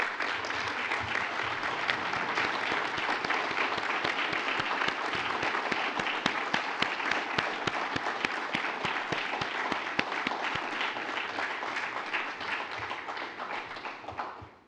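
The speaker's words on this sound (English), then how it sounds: "will you please stand, if you can, to receive a well-deserved round of applause." Sustained applause from a large audience for veterans at an event, dense steady clapping continuing loud for about fifteen seconds before tapering off at the very end.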